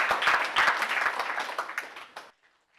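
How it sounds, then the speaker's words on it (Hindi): An audience of teachers and students at a motivational talk applauds briefly. The dense clapping fades and stops after about two seconds. "मैं चाहूंगा एक जोरदार तालियां आप अपने लिए बजाएं"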